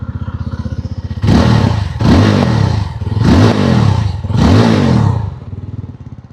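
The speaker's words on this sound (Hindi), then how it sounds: "अब हम सुनाने जाते हैं आपको इसका रेविंग साउंड।" Single-cylinder Yezdi Roadster motorcycle with dual barrel silencer exhaust, close and loud: an idling thump between four sharp throttle blips, each a rising rev that quickly drops back to idle.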